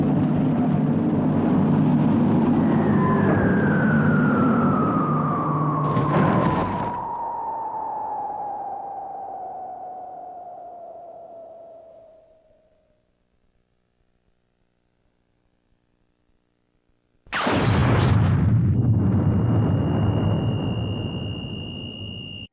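An atomic bomb dropped on Hiroshima in the anime film Barefoot Gen: a long descending whistle over a low aircraft drone fades into dead silence, then a sudden massive roaring blast erupts and slowly rumbles away.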